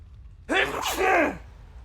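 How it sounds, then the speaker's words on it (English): A single loud sneeze bursts out after a moment of quiet, with a short breathy intake run into the explosive release, close to the microphone. "I gotta sneeze, hang on."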